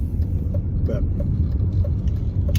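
An old BMW 528 driving, with a low steady engine drone and road rumble heard from inside the cabin, plus a few faint ticks and rattles.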